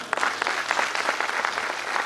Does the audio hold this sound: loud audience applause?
yes